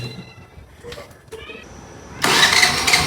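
Scooter engine cranking and catching, then settling into a loud, close idle after brief ticking and mechanical clicks, with no talk over it.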